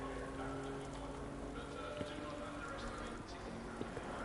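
Steady rain falling at the Silverstone race track in England during a historic eight-hour endurance race, a soft continuous patter with a few louder drops, heard beneath a faint hum and voices talking.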